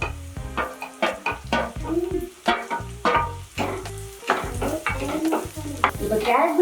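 Carrots and beans stir-fried with softened onion in a pan, a constant close sizzle broken by repeated scraping strokes of a spatula against the metal.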